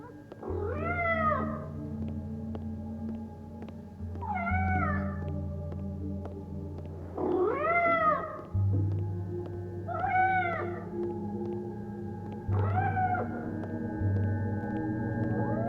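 A cat in the video game Life is Strange: Double Exposure meows repeatedly, five clear rising-falling meows spaced a few seconds apart over a steady low game background, with no talking.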